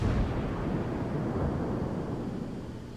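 A deep, sustained roar of ship guns blind firing in a naval video game, a dense, rumbling barrage that fades slightly over a few seconds.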